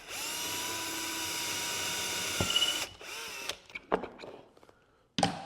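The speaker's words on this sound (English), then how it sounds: "they also provide this brad point drill bit with a stop collar. So you literally just drill in." A power drill with a brad point bit and stop collar whines steadily for a few seconds drilling into wood, then stops, followed by a few clunks and handling knocks close by.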